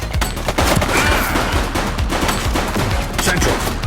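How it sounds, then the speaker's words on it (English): Dense video-game gunfire in a police shootout scene, with continuous rapid shots and bursts packed together, loud and close throughout, with no clear speech. "Shots fired!"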